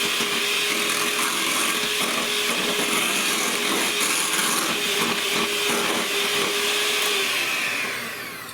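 Steady, loud whirring drone of an electric mixer beating batter for country fried steak, continuous and close for several seconds before winding down at the end.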